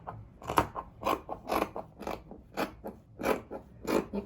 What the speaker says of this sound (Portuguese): E agora eu vou cortar dando uma leve levantadinha a parte do meu tecido de baixo. Do forro.